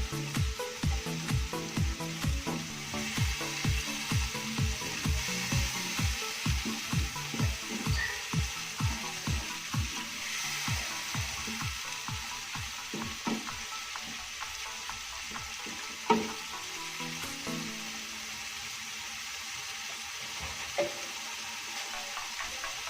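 Shrimp and spices fry in a pan for an Acehnese white eggplant curry, with a steady sizzle under rhythmic stirring scrapes that come fast and regular at first, then slow to sparse knocks.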